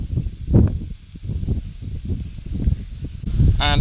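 Strong wind gusts at the entrance to the ancient site of Troy at Hisarlik buffet the microphone in loud, continuous low rumbles, with a brief rush near the end.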